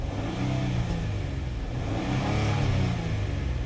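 A 2015 Ford Taurus Police Interceptor with 57,000 miles, engine idling and revving steadily up close, a continuous low rumble with slight swells in pitch and no talk.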